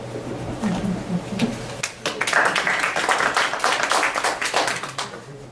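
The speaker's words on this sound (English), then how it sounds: "somebody ought to give Marshall a round of applause too" After a brief murmur of voice, a small group breaks into scattered hand clapping that continues steadily, moderately loud, in a room.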